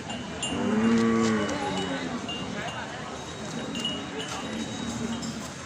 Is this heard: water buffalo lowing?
yes